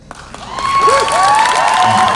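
Audience at a cosplay contest bursts into applause and cheering that swells and holds, dense clapping mixed with whoops and high shouts from the crowd, loud and close.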